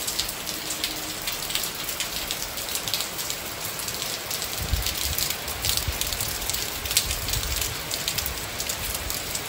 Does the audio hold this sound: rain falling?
yes